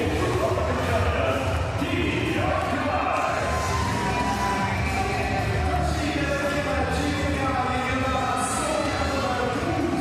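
A Paralympic powerlifting arena crowd cheers and shouts during the finals, a dense sustained roar of many voices with whoops rising above it, while a commentator talks over the noise.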